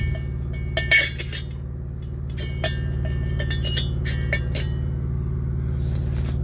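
A metal burn chamber from an Espar diesel bunk heater is set into its housing, giving a sharp clink near the start and a few lighter metallic taps and scrapes over a steady low hum.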